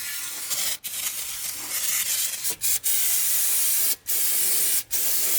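Short bursts of CRC aerosol spray are applied during an engine sump reseal on a Ford Barra EF, with a continuous loud hiss broken by several brief pauses.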